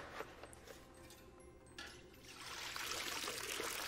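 Water runs and trickles steadily from a tap while a beard is washed, growing louder and more broadband toward the end, with no talking.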